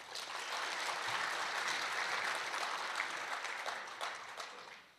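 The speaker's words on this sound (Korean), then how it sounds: "다시 한번 큰 박수 부탁드리겠습니다." Sustained applause from a conference audience at an agricultural outlook forum, steady and dense throughout, tapering slightly at the end.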